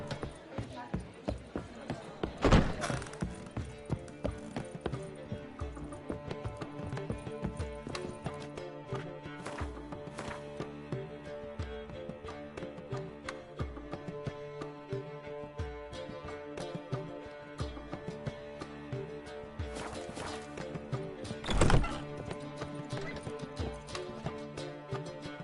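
Roach, Geralt's horse in The Witcher III, trotting with a steady clip-clop of hooves under game music and voices, plus a couple of louder thumps and a brief whinny-like accent.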